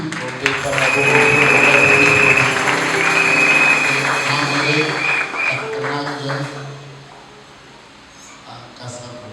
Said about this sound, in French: Acclamons d'abord pour pasteur Freddy.